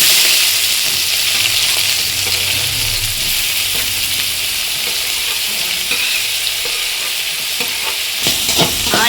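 Onions sautéing in a pan for mutton kuzhambu, a dense steady sizzle with faint stirring scrapes throughout, close and continuous, no speech.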